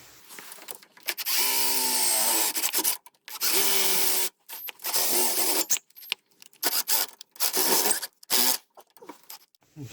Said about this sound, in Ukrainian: розсверлюємо собі десь там 2-3 отвори поряд